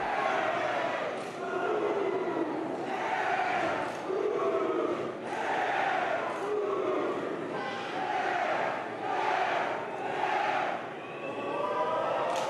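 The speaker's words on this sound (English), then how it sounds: "As Hendry now starting to feed off this New York City crowd" A New York City crowd at a HOG professional wrestling match cheers and chants in rhythmic, rising and falling swells that repeat every second or so and stay loud and continuous.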